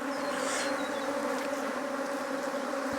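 Dense, steady buzzing of honeybees around an open top bar hive during inspection of a defensive colony, a continuous loud hum with close passes drifting by, no talking.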